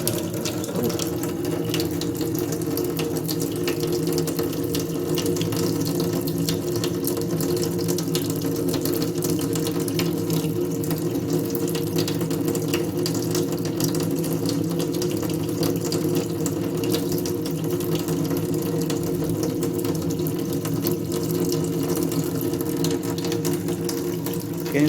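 Water runs steadily from a sink tap for the whole stretch, a loud, even gushing into the basin with no talk over it.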